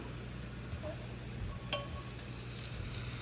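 Chilies sizzling and frying in a pan for a quick egg dish, a steady close crackle throughout with a brief clink or stir partway through.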